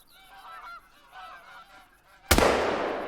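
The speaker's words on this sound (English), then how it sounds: "we have some more geese coming right at us, right through the trees" Geese honking repeatedly in the hunting video game Call of the Wild, a flock calling in short rhythmic bursts at moderate distance, then cut off by a sudden loud blast that rings out and decays.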